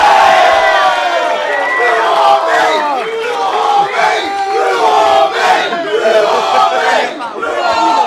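A large crowd at a rap battle cheers and shouts loudly, with whoops and yells overlapping continuously throughout.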